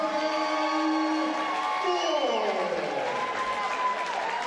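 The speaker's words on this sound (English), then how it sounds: "taking the classic round of applause" A crowd at a fight night applauding and cheering steadily after a unanimous decision, with a whistle-like tone sliding downward over the noise; no clear pauses.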